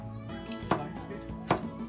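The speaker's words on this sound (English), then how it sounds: "Cut the carrot, cut this off, and this off." A knife chops through a carrot on a cutting board, two sharp, distinct cuts about a second apart, with a steady hum of background sound in between.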